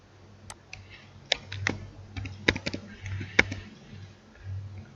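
Scattered, irregular keyboard clicks, a few sharp taps spread over a few seconds with short pauses, as switch names are typed on a computer while programming a PLC forward-reverse starter for a three-phase motor.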